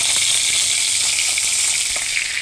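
Three pieces of whiskered kalbaus fish fry in hot oil in a pan, a loud, close, continuous sizzle with faint crackles and no speech.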